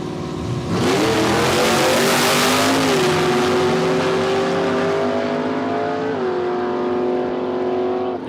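Ford Mustang making a drag racing pass at Palmyra Raceway, a loud engine launching hard and rising in pitch through several gear changes, sustained and roaring to the end.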